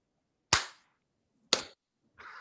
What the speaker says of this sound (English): It's quite funny seeing it with the internet lag because not everybody claps at the same time